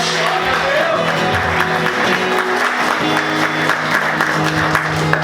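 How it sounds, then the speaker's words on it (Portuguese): Congregation applauding during a church service, loud sustained clapping layered over ongoing music with sustained tones beneath. "Aplauda o Senhor mais forte"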